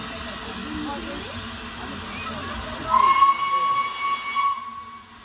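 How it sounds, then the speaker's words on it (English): The Flying Scotsman steam locomotive hisses steadily with escaping steam, then a loud, sustained steam whistle blows for over a second before fading back into the hiss, close by. "The sounds of the Flying Scotsman though, so worth it."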